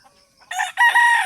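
A rooster crows loudly and close by, a single harsh cock-a-doodle-doo following a few faint clucks, with no talking.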